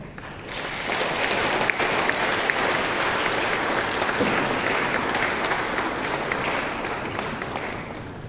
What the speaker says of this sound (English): Let's give another round of applause for Ms. Florence.